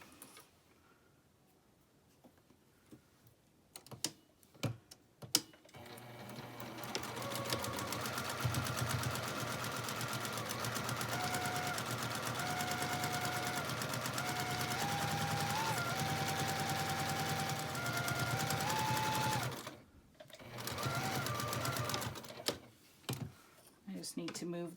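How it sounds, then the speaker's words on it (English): A sewing machine runs steadily for about fifteen seconds while stitching the zipper seam of a patchwork pouch, close and loud, with handling clicks and rustles before and after the run. "and sew my zipper seam"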